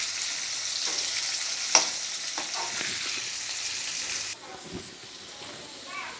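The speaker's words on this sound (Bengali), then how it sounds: "আলুগুলোকে বন্ধুরা আমি একটু লাল লাল করে ভেজে নেবো।" Potatoes sizzle in hot oil in a home kitchen pan, a loud steady hiss broken by a sharp clatter and stirring scrapes, then dropping quieter toward the end as talk drifts in briefly.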